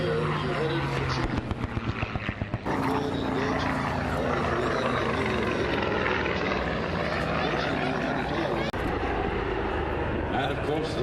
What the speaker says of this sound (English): Liberty Foundation's B-17, however, lifting off right now, ladies and gentlemen, the B-24 Liberator.